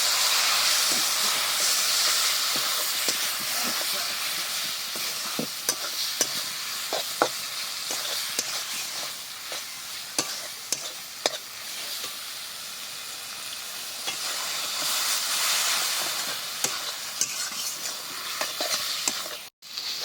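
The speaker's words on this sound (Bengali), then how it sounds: "এবার সব কিছুকে খুব ভালো করে কষাবো। অল্প একটু জল দিয়ে কষাতে, তাহলে কষানোটা খুব ভালো হবে।" Spice masala with turmeric and a splash of water sautés in a pan for Bengali chicken curry, a continuous close sizzling hiss broken by frequent sharp scrapes and taps of a spoon stirring, with no talking.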